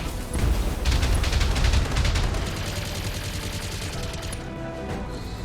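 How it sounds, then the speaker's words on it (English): Turrets firing in the BattleTech video game, a dense burst of rapid gunfire and booms that is loud at first and then continues as a steady rattling barrage. "And now our turrets get to shoot back."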